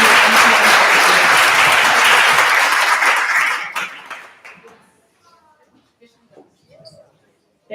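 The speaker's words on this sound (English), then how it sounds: "So big round of applause to our students in the audience, our teachers." Loud audience applause at a school board meeting fills the first four seconds, then fades out, leaving quiet room sounds and faint voices.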